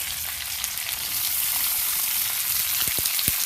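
Curry leaves drop into hot oil for a Kerala potato stir-fry, raising a loud, continuous sizzle with a few sharp pops and crackles near the end and no talking.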